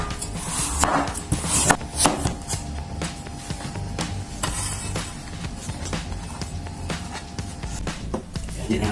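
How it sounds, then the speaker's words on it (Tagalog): Bean sprouts and carrots are chopped on a board with a knife, a run of quick, sharp taps in an uneven rhythm, close and clear, with a voice talking in the background. "First, i-chop lang natin itong ating bean sprout,"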